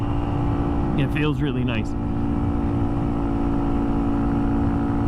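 Honda Monkey motorcycle with a new piston and a 36-tooth rear sprocket, riding along with a steady, loud engine drone throughout, someone briefly speaking over it.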